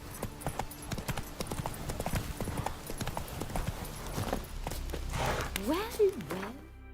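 Hoofbeats from Roach, the horse in The Witcher 3, gallop in a fast, even clip-clop rhythm, and a voice rises briefly over them near the end.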